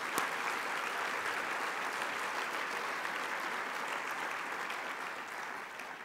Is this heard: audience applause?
yes